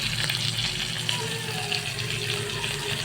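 Food fries in a pan for an egg curry meal, giving a continuous, even sizzle and hiss that stays loud throughout without a break.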